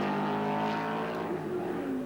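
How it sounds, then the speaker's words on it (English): An F5000 race car screams down the main straight at Sandown, its high engine note steady and strong and then dropping in pitch as it moves away, heard at a moderate distance. "Car sounding good."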